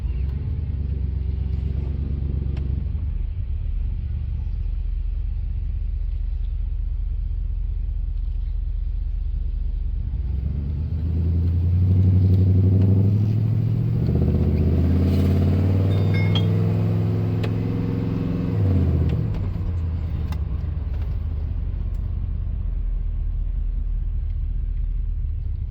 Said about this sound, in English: Truck's rolling back. Just had to tap the gas to get it to go.